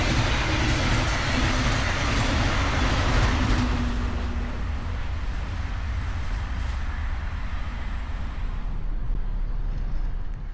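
The Brightline Freedom Express train in its America 250 wrap passing northbound a few minutes after sunset, a loud continuous rumble and rush of coaches that stays strong throughout, then a faint thinning of the high hiss near the end.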